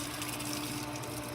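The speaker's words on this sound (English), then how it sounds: "If I want to make sure this filter's working, I can do this, and water shoots out" Water from a pool filter sprays out in a steady broadband gush with a low pump hum beneath it, close and continuous, with no voices.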